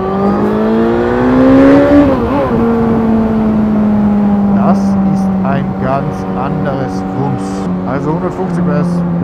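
Suzuki GSX-S1000GT motorcycle with a 150 hp engine accelerating hard on an empty road, a loud, close engine tone rising through the gears with brief shift dips, continuous throughout.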